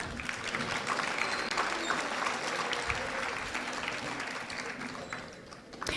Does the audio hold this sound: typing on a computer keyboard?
no